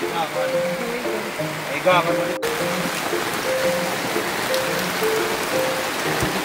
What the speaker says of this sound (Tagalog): Ayan, ulan na naman.